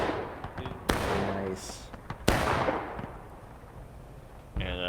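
Confederate Civil War artillery and rifle fire in a historical battle game event, sharp loud booms and cracks in bursts with shorter pops between, while someone talks over them.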